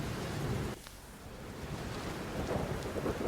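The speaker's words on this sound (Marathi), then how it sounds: "रायगडमध्ये मुसळधार पाऊस सुरू आहे, त्यामुळे झाडांची पडझडी सुरू आहे।" Heavy monsoon rain with rumbling thunder in Raigad, Maharashtra, a steady dense roar of downpour with a deep thunder rumble near the start, continuous and loud with no voices.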